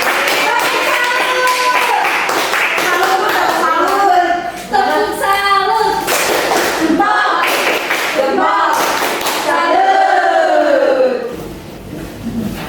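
A school class clapping a rhythmic patterned cheer in unison at a teacher's prompt, with the children chanting along and the claps coming in regular bursts.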